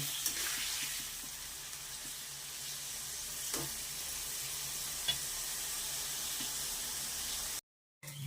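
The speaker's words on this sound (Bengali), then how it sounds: "এই যে দেখো, পনিরটাকে ভেজে নিচ্ছি।" Paneer cubes fry in hot oil in a pan with a steady, soft, continuous sizzle and hiss, a few faint pops and stirring sounds, then a brief cut to silence near the end.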